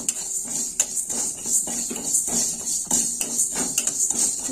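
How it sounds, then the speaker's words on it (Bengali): Cumin and coriander seeds are dry-roasted in a kadai, with repeated metallic scraping and clinking of a spatula against the pan in an irregular, close rhythm. "এবার শুকনো কড়াই আমি মশলাটা ভেজে নেব"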